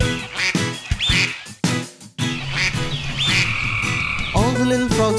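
Frogs croak in rapid bursts and ducks quack loudly nearby in a children's nursery rhyme song, overlapping in a lively, rhythmic chorus.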